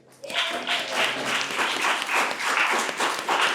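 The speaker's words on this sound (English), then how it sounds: "Please give a warm round of applause to Ms." Applause bursts in abruptly from an audience at a Women's Day peace summit and holds steady, a fairly loud, slightly rhythmic clapping, with a faint voice briefly audible early on.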